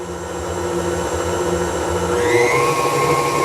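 An electric mixer creams sugar cookie dough with a steady, loud whirring drone, and its pitch rises partway through as the speed is turned up. No talking over it.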